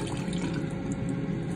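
Tap water runs steadily into a pot being filled to a marked line in a small kitchen, a continuous close splashing rush with no talk.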